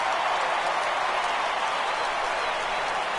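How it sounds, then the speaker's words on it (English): Simulated ballpark crowd in MLB The Show 18 rising for a 3-2 count, a steady, dense roar of cheering and applause filling the whole stretch with no break. "Crowd gets up for the 3-2."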